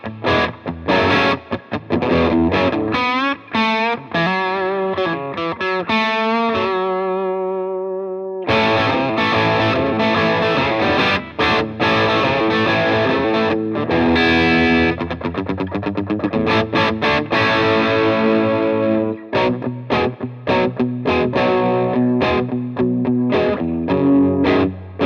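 A humbucker-equipped electric guitar plays through the overdrive channel of a Peavey Classic 20 combo with reverb, giving loud, distorted riffs and sustained chords that briefly drop out before the playing resumes.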